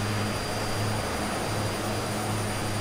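A steady, continuous airplane engine drone from a flight simulator game, a dense even roar with a low hum that holds level throughout, with no voices.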